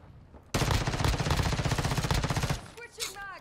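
A Tempus Razorback in Modern Warfare 2 lets out one loud, close automatic burst of rapid gunfire lasting about two seconds, then someone speaks.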